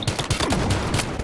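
Rapid video game gunfire, loud and close, cracks in a quick fusillade of overlapping shots lasting just over a second.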